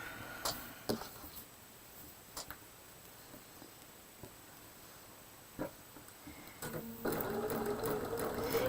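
Sewing machine stitching cotton quilt squares placed right sides together, heard in short bursts with pauses between runs and a longer steady run near the end.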